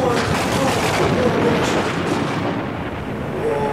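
Rumbling thunder from a storm, a loud low continuous roll that swells and settles over a few seconds with no talk over it.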